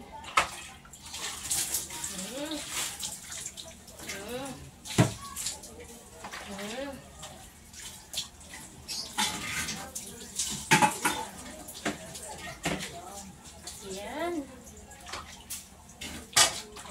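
Boiling water is poured over a nest of small cockroaches, giving repeated splashing and pouring bursts with clatter, while a person talks over it throughout.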